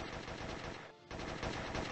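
Rapid bursts of gunfire from a side-scrolling run-and-gun video game in the style of Metal Slug, dense and continuous with a brief gap midway, no talk.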